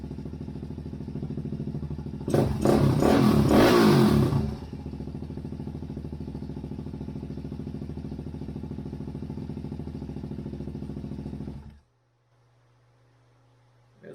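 A rebuilt 2000 Suzuki DRZ400S engine idles steadily after a loud, brief rev, then shuts off and leaves a faint hum.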